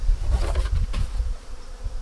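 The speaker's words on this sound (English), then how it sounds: "We've got a few remaining bees in here, and that can just get shaken in" A dense, steady buzzing of many honeybees close by as they are transferred from a nucleus box into a hive, a continuous low hum that swells and dips slightly with no voices.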